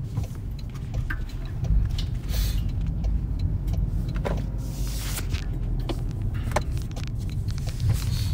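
Steady road and engine rumble of a car in motion, heard from inside the cabin, continuous and fairly loud with a few faint clicks and shifts but no talking.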